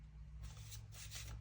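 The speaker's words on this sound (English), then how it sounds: "while I shuffle out cards" Tarot cards shuffled by hand in two bursts of crisp riffling, close and moderately loud over a steady low hum, with no talking.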